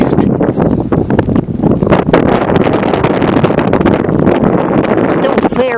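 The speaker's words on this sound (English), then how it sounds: "It's still very windy." Strong gusty wind during a severe storm buffeting the microphone in loud, uneven bursts, with a voice seeming to talk over it.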